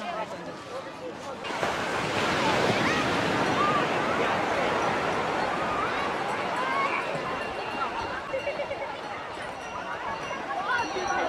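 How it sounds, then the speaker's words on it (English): Beach surf rolls in as a steady loud wash with wind buffeting the microphone, beginning quieter and swelling after a second or two, with voices faintly present. "Yes, the beach."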